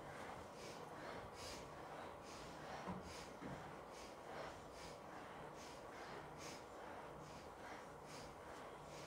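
Repeated breathing exercise during a vocal warm-up lesson, steady inhales and exhales at a regular rhythm over a constant background hiss, fairly faint and close, with no talking.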